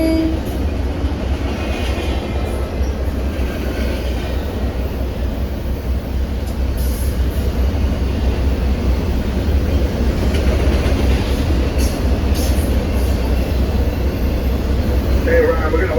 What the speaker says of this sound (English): Ryan, we're gonna wait for this train to go by.